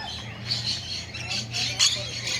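Several birds give short, harsh squawks close by, rising in quick bursts over a low background hum.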